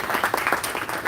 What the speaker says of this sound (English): Can we have an applause for the panel?